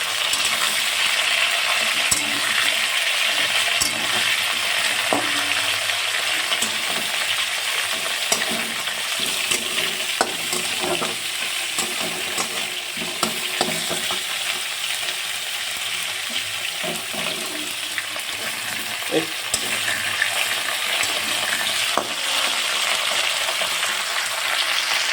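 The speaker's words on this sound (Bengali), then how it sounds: "এই যে মাছগুলো ভাজা হয়ে গেছে, এবার কাঁচকলাগুলো ভাজছি" Raw banana pieces and gandal leaves fry in a pan, a steady moderate sizzle with occasional sharp clicks and scrapes of a spatula stirring throughout.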